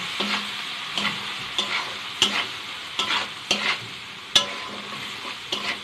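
A spice masala of chili powder and salt is stir-fried in a pan for a Bengali prawn curry with ridge gourd, with a soft steady sizzle broken by regular scraping strokes of a spatula, roughly one every second.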